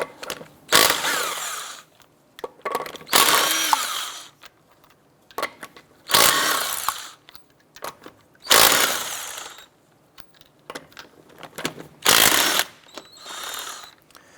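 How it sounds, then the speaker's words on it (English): Bursts of rapid ratcheting clicks from a 19mm socket ratchet loosening lug nuts on a 2006-2013 Chevrolet Impala wheel, repeating in about six loud spurts separated by short pauses, with no talking. "Using a 19mm socket, we're going to go ahead and remove our lug nuts."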